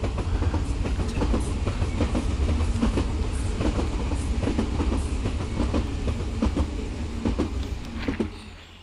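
Trains from the video game Trainstation 2 rolling along the tracks, with a continuous low rumble and a regular clickety-clack of wheels over rail joints, loud and close, fading slightly at the end.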